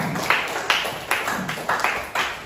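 Classroom students applaud a classmate, a short burst of rhythmic clapping with about six distinct sharp claps in steady beat, moderately close, with no talking.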